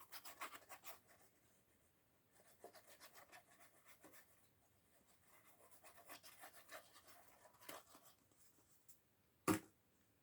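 Paper scrapbooking piece being pressed and glued onto a burgundy and pink background, giving soft, faint rubbing and scratching strokes in irregular bursts, then one sharp tap near the end.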